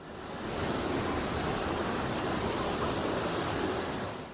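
Steady, dense roar of rushing water, loud and continuous, from a waterfall heard close by from a suspension bridge beside it in Seoul, with no voices.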